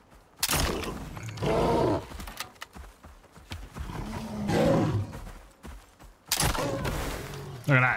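Three crossbow-style bolt shots fired at a bear in the survival game Icarus, sharp bursts spread across several seconds amid loud game effects and roaring creature sounds, with someone talking in between.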